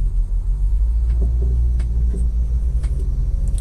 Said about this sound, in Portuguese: Tinha um caminhão atrás de nós aqui.